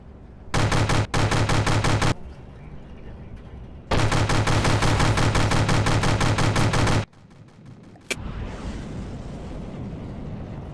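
A large, heavy gun on a vessel in the naval combat game From the Depths fires rapid bursts of loud, close booming shots in two long volleys, followed by a sharp blast and a rumbling tail.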